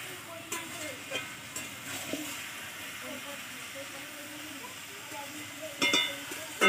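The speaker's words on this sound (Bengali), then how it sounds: "আবার কষিয়ে নেব একটু" Banana flower curry with fried prawns being sautéed in a pan, a low steady sizzle with faint stirring scrapes and a few louder clatters near the end, fairly quiet.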